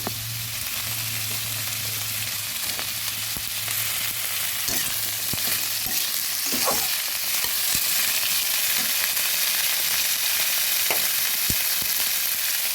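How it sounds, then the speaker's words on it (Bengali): Oats khichuri with vegetables and beans sizzling and frying in a pan while being stirred, a steady broadband crackle with scattered scraping clicks from the spoon against the pan, no voices. "ভালোভাবে নেড়ে দিচ্ছি"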